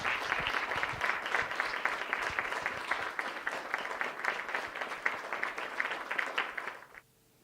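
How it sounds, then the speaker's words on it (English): Audience applause at a spiritual talk event, dense sustained clapping from a large crowd that carries steadily for about seven seconds and then stops abruptly, leaving near silence. "Please give him a round of applause."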